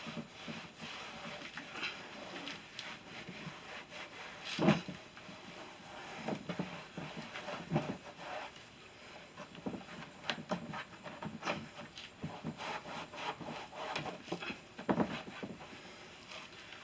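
Rubbing alcohol is wiped onto a 2008 Mustang door panel, soft irregular rubbing and scuffing strokes with occasional light knocks, close and quiet.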